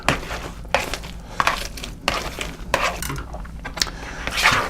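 Avocados being smashed with lime and cilantro for guacamole in a bowl, a series of irregular squishy thuds and scraping knocks, close and moderately loud, with short pauses between strikes.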